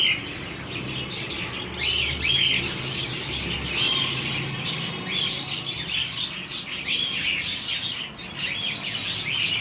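Outdoor birds, including parrots, crows and sparrows, chirp and call repeatedly in a busy, overlapping chorus at moderate distance, with no talk.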